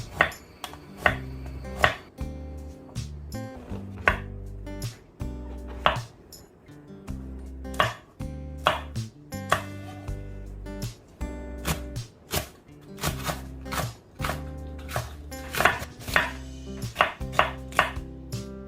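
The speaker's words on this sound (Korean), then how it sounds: "국물 맛을 시원하게 해주는 무 100g 채로 썰어주세요." A knife chops radish into thin strips on a cutting board, a brisk, steady run of sharp close thuds with a low board resonance, continuing alone throughout without talk.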